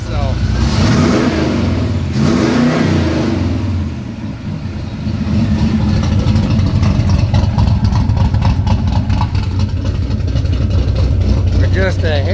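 A 1969 car's engine idles loud and close with a new Holley Ultra Street Avenger carburetor, a steady low rumble with a brief dip partway through, while someone talks over it.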